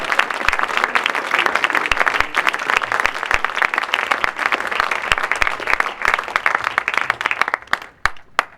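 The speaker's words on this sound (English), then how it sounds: "Give it up for Sandy Faison." Audience applause at the 2015 LIIFE Awards show for Sandy Faison: a dense, sustained round of many hands clapping that thins into a few scattered claps before fading out.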